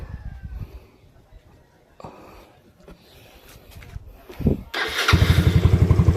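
A motorcycle engine fitted with a 30mm carburetor sputters and catches near the end, settling into a loud, pulsing idle after quieter fumbling noises, with a voice talking faintly early on.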